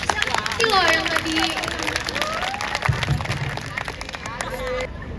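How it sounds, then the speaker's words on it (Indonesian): A school exhibition audience claps and cheers steadily at an indoor student showcase, with applause running under excited voices and chatter throughout. "Tepuk tangannya dulu dong."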